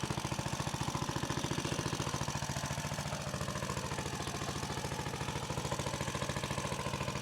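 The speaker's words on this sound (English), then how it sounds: "I'll take it down to a low idle here." A Junior Chief single wheel garden tractor's small engine idles low and steady, its rapid regular firing pulses sounding close, loud and uninterrupted with no voices.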